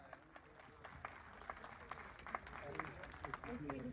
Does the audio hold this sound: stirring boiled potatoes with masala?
no